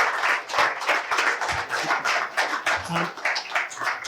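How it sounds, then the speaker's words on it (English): Audience at a Greek community seminar in Melbourne claps for a guest speaker, a short burst of close, uneven hand claps with no talking. "A big round of applause for our speaker today."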